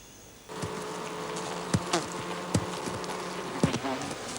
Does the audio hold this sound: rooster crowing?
no